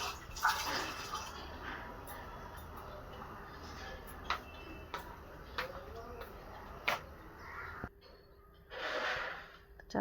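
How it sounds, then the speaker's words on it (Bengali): Rice being washed by hand in a bowl of water while cooking a meal at home, with close, irregular sloshing and splashing bursts that fade and return, including a fuller swish near the end. "চালটা ধুয়ে নিলাম, চালটা ধুয়ে এখন ভাতটা বসিয়ে দেব"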